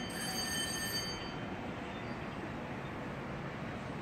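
A mountain tram starting off up the slope, heard as a continuous low rumble of wheels and car with faint high squealing tones early on, steady and fairly close throughout.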